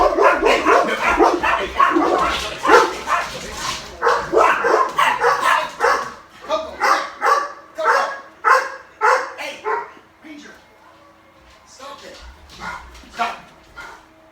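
Dogs barking in loud repeated bursts close by, one bark after another for several seconds, with someone talking over the start before the barks carry on mostly alone.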